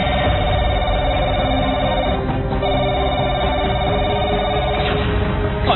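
A telephone rings insistently with a repeating electronic bell tone that stays loud and constant for several seconds, with no voices over it.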